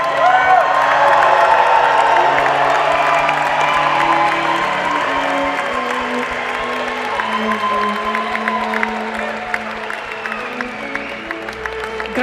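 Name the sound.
applause for graduating MBA students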